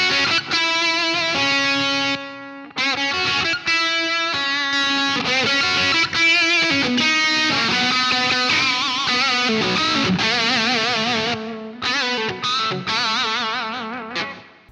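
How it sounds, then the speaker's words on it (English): An electric guitar plays through an overdrive boost plugin preset, giving a gritty, saturated tone as chords and melodic lines ring out continuously, loud and close. "this is the overdrive boost pedal"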